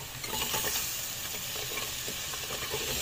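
Chopped sponge gourd (turai) stirred in a frying pan with spices, constant sizzling under a run of scraping spatula strokes, close and fairly loud, nobody speaking.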